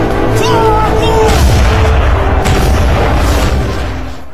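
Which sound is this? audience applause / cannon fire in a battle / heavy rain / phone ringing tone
cannon fire in a battle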